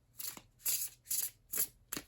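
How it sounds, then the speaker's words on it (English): A Baroque tarot deck is shuffled by hand in five quick, crisp bursts of riffling card edges, each about a quarter-second long with brief pauses between, close and fairly quiet. "Want to start to shuffle these cards"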